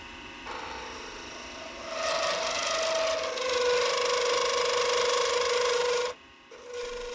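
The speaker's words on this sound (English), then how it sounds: "I'm testing to see if the parting tool works for cutting the epoxy as well" A parting tool cutting an epoxy resin pen blank on a wood lathe, a continuous close scraping hiss over the lathe's steady whine, growing louder midway, then stopping abruptly before a brief restart.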